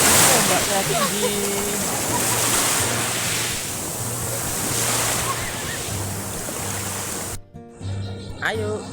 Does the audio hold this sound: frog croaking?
no